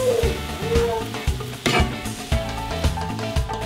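Seasoned meat sizzles in a pan for cheeseburger soup while it is stirred, giving steady frying hiss with several soft scraping knocks of the utensil at uneven intervals, close and moderately loud.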